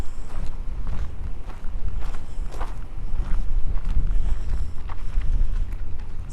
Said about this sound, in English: we're getting blown away here in the wind